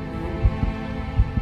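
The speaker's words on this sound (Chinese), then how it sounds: "也会发出心跳一般的声音" A heartbeat-like sound effect, said to come from a phoenix-cry sword in a fantasy costume drama, thumps in low, soft beats with a steady hum underneath, about four pulses in a second and a half.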